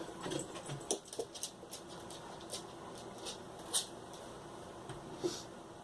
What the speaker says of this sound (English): the door's closed. You can't get up the stairs. There's no doggy door for you, Franco.